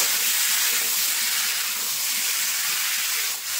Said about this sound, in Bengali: এখন যে লবণ হলুদ মেখে রাখা আম, তো এখন আমি দিয়ে দেবো তেলের উপরে, দিয়ে কিন্তু একটু নেড়ে নেব